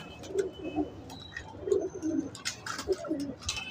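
Pigeons coo repeatedly in soft, rhythmic bursts at close range, with a few faint chirps and background noise and no talk.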